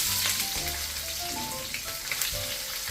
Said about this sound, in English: Add the whole spices and onion, about 8 sliced onion